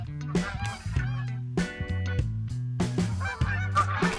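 Geese honk repeatedly at goose blinds in theHunter: Call of the Wild video game, loud overlapping calls in close succession with brief gaps between bursts.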